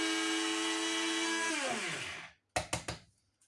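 A small electric coffee grinder from the 1990s whirs loudly and steadily grinding sugar, its pitch dropping as it winds down, followed by a few sharp taps and knocks.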